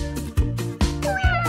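A cat meows three times in a row, each loud, close, tonal call rising and falling, with short gaps between and no other sounds.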